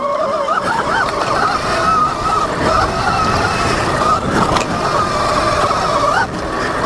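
A Rawrr Mantis X electric dirt bike runs along dirt trails, its motor giving a steady whine that rises and dips with throttle over continuous wind and tire noise, fairly loud and close.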